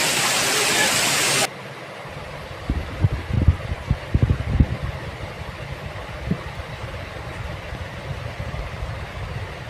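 A small, shallow stream flows steadily, its continuous rush joined by irregular splashes and knocks, with faint speech in the background.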